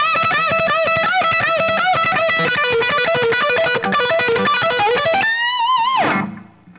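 Distorted electric guitar plays a fast lead lick at normal tempo, a rapid run of picked notes ending on a sustained bent note that rings out and fades, loud and alone.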